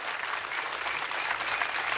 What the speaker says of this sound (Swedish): Mer applåder till mig, tack.